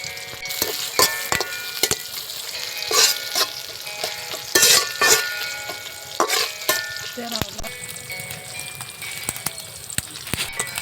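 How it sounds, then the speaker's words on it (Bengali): Cinnamon, cardamom and cloves sizzle in a hot pan with scattered clinks and stirring scrapes, crackling on and off throughout, close up with no talking. "একটু ভেজে নিন।"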